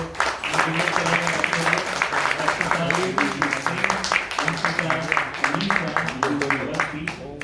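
A play audience at a folk festival staging of the Ganga Avatarana story breaks into loud, dense, continuous clapping that fills the whole stretch, with voices mixed in under the applause.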